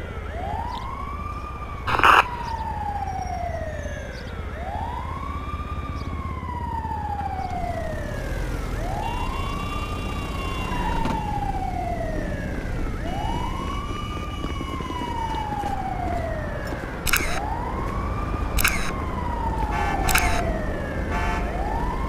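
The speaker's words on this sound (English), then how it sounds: "I can hear that ambulance siren going" Wailing ambulance siren in GTA 5, sweeping up and down in long repeated cycles at steady volume over low traffic rumble, with a few sharp clicks and brief bursts scattered throughout.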